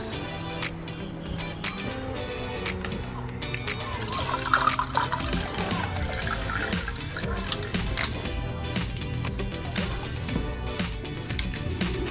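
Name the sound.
water being poured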